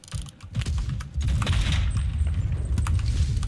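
Video game gunfire in a desert battle setting: dense, rattling bursts of shots with heavy low booms, close and loud, running almost continuously with no talking.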